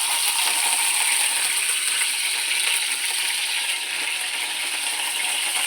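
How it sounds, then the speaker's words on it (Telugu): Brinjal pieces frying in hot oil for a gutti vankaya curry: a dense, steady hiss and crackle of sizzling that runs without a break, close and loud, with no talk. "ఇలా కోసిన వంకాయ ముక్కలను ఫ్రై చేసుకుంటున్నాను."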